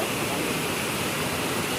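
Kadape waterfall in Konkan, a steady, dense rush of falling water heard close up, unbroken and even throughout with no other sounds standing out.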